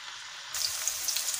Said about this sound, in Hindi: इनको थोड़ा सा और हम फ्राई करेंगे